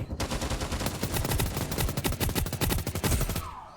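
A video game gun fires in a fast, steady automatic burst of many sharp, loud shots lasting about three seconds, then cuts off. No voices are heard.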